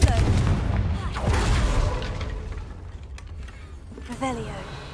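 Confringo blasting spell going off in Hogwarts Legacy, a booming burst with crackling debris, loud at first then fading under a low rumble, with a second smaller blast near the end.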